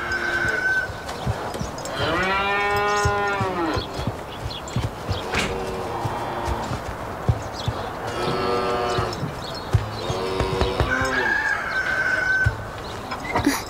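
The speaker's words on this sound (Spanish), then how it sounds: "Lleva la vaca al campo." Cows moo several times at moderate distance over a noisy farmyard background, with a rooster crowing faintly near the start and end.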